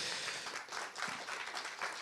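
Audience at a plenary real-estate industry conference applauds, a short burst of many hands clapping, soft and somewhat distant, in a roomy hall.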